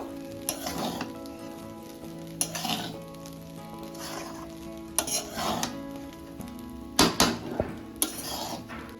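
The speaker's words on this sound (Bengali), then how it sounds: "এবার কড়াইতে দিয়ে আস্তে আস্তে করে একটু ভাজতে থাকতে হবে" Rice mixture for Chinese-style fried rice frying in a wok, with a steady sizzle under repeated scraping and clanking of a utensil against the pan at irregular intervals, close and fairly loud, no talking.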